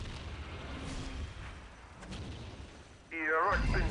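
Mortar fire and shell explosions in the Dawn of War real-time strategy game, a steady background of distant booms and rumbling blasts, with a voice speaking near the end.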